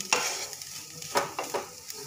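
Mixed vegetables and egg are stirred in a frying pan, with a spatula scraping in several short strokes over a soft, continuous sizzle close by.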